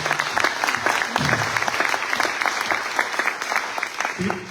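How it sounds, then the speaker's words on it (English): Steady applause from an audience at a book launch, a dense crackle of clapping hands filling the room, with a few voices briefly audible beneath it. "they do deserve a round of applause."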